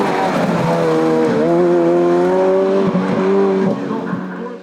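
A Ferrari F430 Challenge race car powers up a hill climb course, its loud engine note rising and falling through gear changes at close range, with brief tire noise as it passes.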